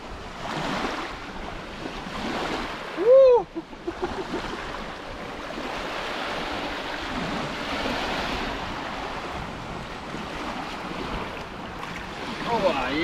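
Strong wind buffeting the microphone while big waves surge on a carp-fishing lake shore, a constant rushing roar with a brief voice-like squeal early on.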